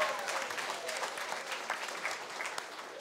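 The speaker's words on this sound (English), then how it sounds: "a big round of applause for Labour MP for Manurewa, Louisa Wall." A studio audience at a televised political panel show claps steadily in a dense, even wave of applause that fills the whole stretch without a break.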